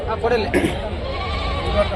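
Lambs bleat in short calls amid a busy crowd at a weekly livestock market in Rajarampalli, India, with people talking loudly over the steady market din.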